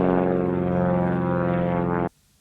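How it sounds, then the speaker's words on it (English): A propeller airplane drones steadily overhead, loud and close with a rich harmonic engine hum, then cuts off abruptly near the end, leaving near silence. "the airplanes are flying over again."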